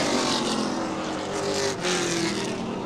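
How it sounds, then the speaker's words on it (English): Late model race cars roar around a 3/8 mile oval at Baer Field Speedway in Fort Wayne during a 2013 feature, a steady, loud engine drone with slight rises as cars pass, no talk over it. "Final trip around the track for Gatton and Cook."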